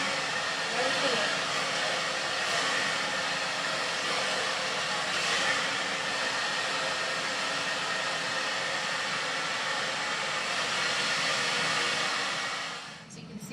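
A hair dryer blows steadily and loudly as hair is round-brushed dry, a constant whooshing roar that lasts throughout and cuts off at the very end.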